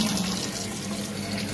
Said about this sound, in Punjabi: ਇਹ ਥੋੜ੍ਹਾ ਥੋੜ੍ਹਾ ਪਾਣੀ ਆਉਂਦਾ